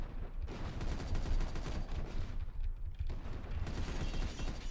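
Rapid, continuous tank cannon fire in the video game Super Tank Rumble, a dense, loud barrage of shots running throughout with only brief dips.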